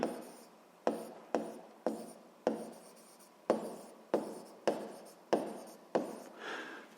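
A pen scratches across paper in a notebook in about ten quick, evenly spaced strokes, each a short close rasp that fades before the next, with no talking.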